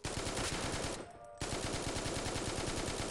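Rapid automatic AK-47 fire in the video game Forward Assault, a loud continuous burst of shots, a brief break, then another sustained burst.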